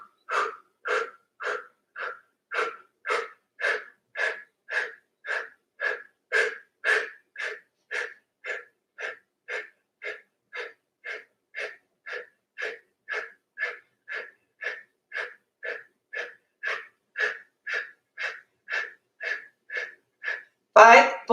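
Open-mouth breathing exercise during a 26-posture yoga series: about thirty steady, evenly spaced breaths, each a soft airy rush, close and alone, ending in a louder exhale.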